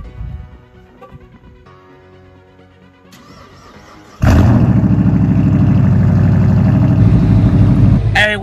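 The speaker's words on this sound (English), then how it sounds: "Let's get this cold start in real quick." A car engine cold-starts after a few seconds of quiet background murmur and faint voice, catching abruptly with a loud burst and settling into a steady, loud, rough idle that runs to the end.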